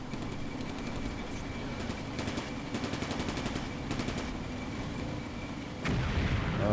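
Infantry gunfire in the World War II video game Combat Mission: Barbarossa to Berlin, rapid bursts of automatic fire rattling over a constant rumbling battlefield din, growing heavier near the end.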